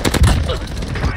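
Rapid bursts of gunfire in an online shooter match, dense and loud, overlapping with excited shouting from players close to the mic.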